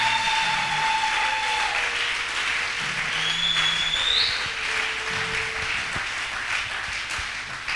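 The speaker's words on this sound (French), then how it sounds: "Est-ce que nous pouvons l'acclamer encore beaucoup plus fort que cela?" A church congregation applauds and cheers loudly for Christ, a dense steady wash of clapping with whistles and shouts rising through it, continuing without a break.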